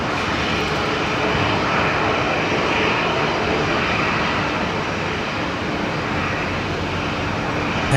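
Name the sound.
Qatar Airways aircraft on final approach at Brisbane Airport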